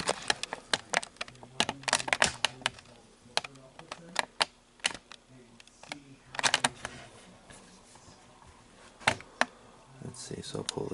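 Rapid, irregular clicking of laptop keys in bursts with short pauses, close by, over a quiet background.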